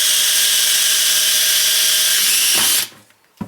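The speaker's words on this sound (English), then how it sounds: "Drill a small hole" A power drill bores a small hole from the inside of a DIY water filtration container, a loud steady whine running close for nearly three seconds before cutting off, followed by a brief burst of rustling.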